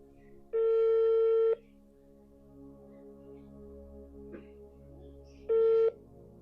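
An outgoing phone call rings: two long, steady tones about five seconds apart, with quiet hum in between.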